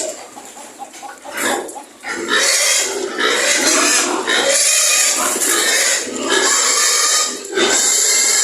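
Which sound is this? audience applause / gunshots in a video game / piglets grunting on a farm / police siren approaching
piglets grunting on a farm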